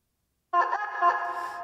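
A synthesized, voice-like tone made with the Exhale vocal plugin enters abruptly after a short silence and holds as a bright, sustained, slightly wavering pitch with a breathy edge, alone and close.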